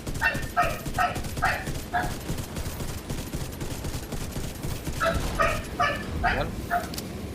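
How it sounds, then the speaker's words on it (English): A dog barks in two clustered bursts of sharp, repeated barks, first near the start and again near the end, over steady background noise with a quiet lull between, during play of the shooter game Division 2. "It's not my dog."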